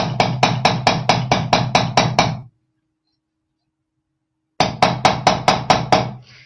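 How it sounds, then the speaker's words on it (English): A nylon hammer taps jewelry wire while an adjustable bangle is shaped, making two bursts of evenly spaced sharp strikes, about nine and then seven blows, close and loud, separated by a pause of silence. "Now I can do some hammering here as well."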